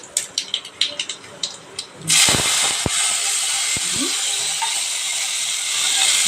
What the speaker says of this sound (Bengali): দেখুন এবার আমি কালো জিরে দিয়ে দিলাম